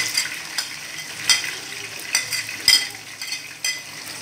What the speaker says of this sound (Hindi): ये प्याज जब तक सुर्ख नहीं होंगे हम इसको फ्राई करते रहेंगे।